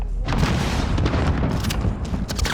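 A grenade blast in Call of Duty: Modern Warfare, a loud booming detonation with crackling debris and scattered gunfire-like bursts following close, dense and chaotic throughout.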